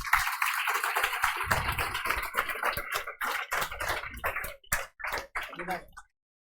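Audience claps at a student prize distribution ceremony for online classes, a dense burst of applause that thins into scattered individual claps before stopping abruptly.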